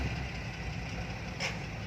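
Vehicle engine idling steadily at close range with a low, even rumble, and a brief higher-pitched noise rising near the end.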